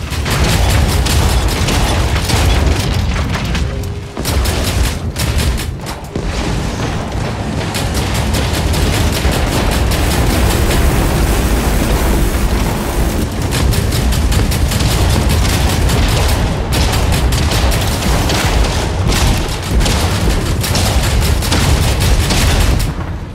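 Continuous loud barrage of gunfire and booming explosions in the mech combat video game Hawken Reborn, dense overlapping shots and blasts throughout with brief dips, no talk.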